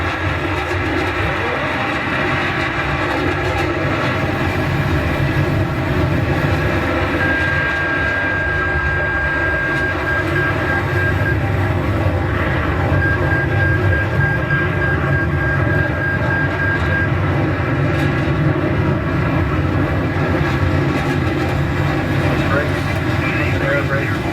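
Roaring F-18 Hornet jet engine at full throttle during takeoff from an aircraft carrier in a flight video game, a steady, loud, continuous rumble throughout, with someone talking over it.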